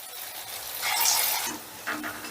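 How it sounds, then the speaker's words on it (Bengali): Mung dal fritters (bora) fry in a pan of oil, a soft continuous sizzle with stirring scrapes that swell in the middle of the clip. No one speaks. "এই তেলটার মধ্যে যতটুকু যে কটা বড়া ধরবে আমি সে কটা একসাথে ভেজে নিচ্ছি"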